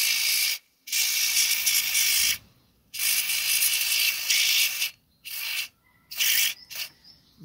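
Fast-drying electrical contact cleaner is sprayed from an aerosol can into a car's electric window switch, in several loud hissing bursts of about one to two seconds each, separated by short pauses.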